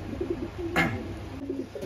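A Kamagar Pakistani high-flying pigeon gives a soft, low coo that sounds close, with a brief louder call in the middle over steady room noise.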